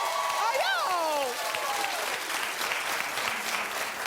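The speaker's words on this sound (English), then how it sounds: "Keep clapping for Jimmy Kimmel." A studio audience claps and cheers for Jimmy Kimmel on a daytime talk show. The applause is loud and steady and runs the whole time, and a voice speaks over it near the start.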